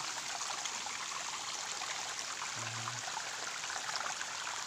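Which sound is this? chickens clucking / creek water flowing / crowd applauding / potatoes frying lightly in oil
creek water flowing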